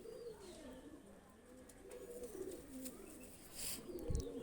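Pakistani high flyer pigeons coo softly in a quiet setting, a few low murmuring calls rising and falling, with a brief thump near the end.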